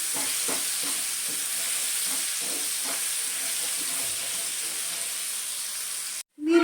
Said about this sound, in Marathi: मिरची आणि लसूण हे थोडंसं मंद आचेवरतीच परतून घ्यायचं आहे